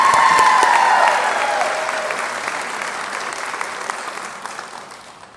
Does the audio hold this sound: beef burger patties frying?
no